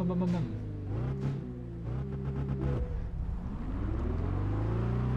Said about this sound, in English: I think like the actual engine sounds are actually pretty good in this game